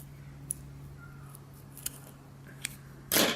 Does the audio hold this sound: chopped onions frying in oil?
no